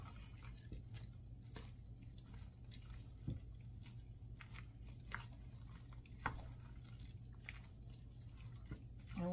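A spoon stirs a thick cheese and artichoke dip mixture seasoned with hot sauce, making faint, soft, wet clicks and squelches at an uneven, slow rhythm over a low background hum.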